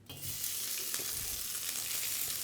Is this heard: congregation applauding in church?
no